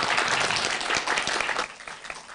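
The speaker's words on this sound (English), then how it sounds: "please join me to give a big round of applause to all the representatives of the ASEAN community members" Applause rises from an audience at a live ASEAN community event, a brisk wash of clapping that thins and fades out during the final second.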